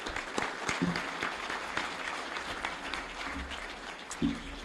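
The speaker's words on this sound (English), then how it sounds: "Let's applaud all for coming as our guests." Steady applause from a room of people at a Rotary Club of Milwaukee meeting, a dense patter of many hands clapping at moderate volume throughout.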